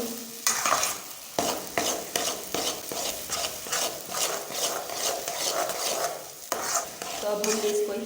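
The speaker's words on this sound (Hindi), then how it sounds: "तो पूरा 1 कप दूध हमने इसमें डाल दिया है और इसको अब हम मिक्स कर लेंगे।" A spoon stirs a thick gram flour and milk mixture for besan barfi in a pan, making rhythmic scraping strokes, about two per second, with a soft sizzle underneath, close up.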